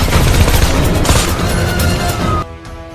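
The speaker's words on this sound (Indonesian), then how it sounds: "Kemudian Ladu Singh datang, lalu Lula menembakinya." Gunfire in an action film scene, a loud dense burst of rapid shots with crashing impacts, ending abruptly into a quieter tail.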